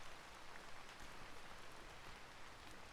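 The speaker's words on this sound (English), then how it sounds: "listening to the sounds of the rain" Steady rain in a video game, a continuous soft hiss of falling drops that stays even and quiet from start to finish, with no voices over it.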